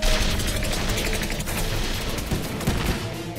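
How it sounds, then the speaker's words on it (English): Snow cannons firing in the Action Man X Missions video game, a loud continuous barrage of rapid gunfire-like blasts and booms filling the whole stretch, with no speech. "Get set to fire snow cannons!"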